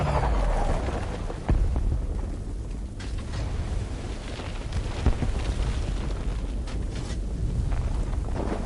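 A rolling, thunder-like rumble follows an explosion at Ace Chemicals in a Batman video game, with a couple of heavier thuds rising out of a continuous low roar and windy wash.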